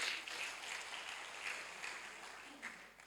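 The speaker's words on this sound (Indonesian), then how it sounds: "Saudara mau tepuk tangan bagi Yesus?" A church congregation claps together in a steady, dense wash of applause that continues for a few seconds, heard faint and somewhat distant in the room.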